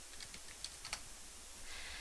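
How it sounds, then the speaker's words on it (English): A few soft keystrokes on a computer keyboard as a library catalog search is entered, faint and brief over a steady background hiss. "Well, I could type in The Grapes of Wrath"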